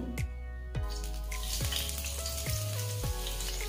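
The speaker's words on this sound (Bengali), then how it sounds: "এবারে এতে দিয়ে দিচ্ছি 1 চামচ কুচনো রসুন।" Chopped garlic frying in hot oil in a pan for beans masala, a steady close sizzle with a few scraping stirs and clanks of a spoon against the pan; no one speaks.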